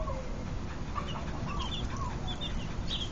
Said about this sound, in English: 10 baby chicks were adopted by Bailey this morning.